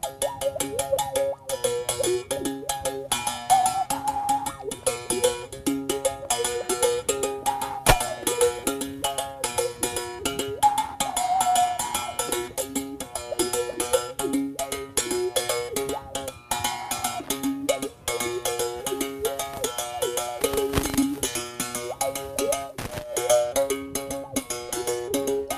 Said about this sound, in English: This one is exactly the wood of this instrument that we call it umhobe.